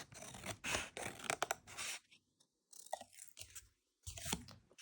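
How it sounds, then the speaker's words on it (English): Scissors cutting a paper tag shape, close crisp snipping and crunching strokes in irregular bursts separated by short silent pauses, no talking. "I'm just going to cut this out."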